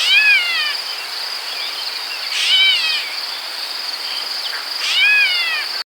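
Gray catbird giving a few short downslurred mewing calls at about 0.3, 2.6 and 5 seconds, fairly close, over a steady high insect drone with no talking.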